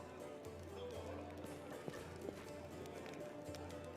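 Horse hooves clip-clop in a steady trotting rhythm within the fantasy role-playing game Pathfinder: Wrath of the Righteous, moderately close and continuous beneath a busy layer of game ambience.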